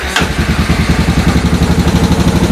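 A Kawasaki KLR 650 motorcycle with a suspected top-end fault from running low on oil starts up and settles into a loud, close, steady idle with an even thumping pulse.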